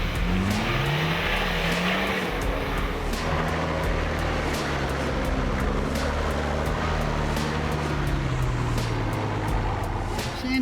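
A 4WD buggy on 35-inch tyres with double lockers climbs rough, rutted terrain, its engine revving up and down in rising and falling surges, close and loud, with people talking over it.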